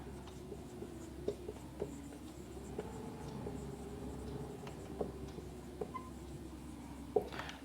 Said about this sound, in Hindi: फिर मैं एक स्टेटमेंट यहाँ पे लिख देता हूँ